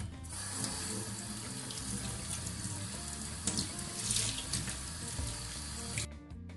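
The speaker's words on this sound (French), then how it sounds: "je vais enfin rincer mes mèches" Tap water runs steadily into a sink as bleached hair is rinsed, a continuous close splashing rush that stops abruptly at the end.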